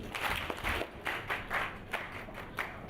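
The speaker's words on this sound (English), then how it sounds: "clap your hands." Audience at an entrepreneurship and economic summit clapping hands on cue in short, rhythmic bursts, fairly faint and roomy, with a few quick pauses between groups of claps.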